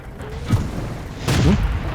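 A tank cannon firing an APCR round in a tank battle video game, heard as two heavy booming shots about a second apart, loud and close, with a low rumbling tail and no talking.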